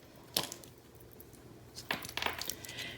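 Scissors snip through cotton wick on an STNG MTL RDA: quiet, close, crisp cuts, first a single snip and then a quick cluster of three.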